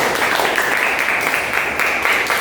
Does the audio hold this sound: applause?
yes